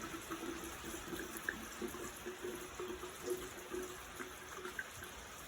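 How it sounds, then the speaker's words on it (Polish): Grappa pours over grapes in a jar for a liqueur, making a soft, continuous liquid trickle and splash, faint and steady throughout with no speech. "Dodaję alkohol, czyli wódkę."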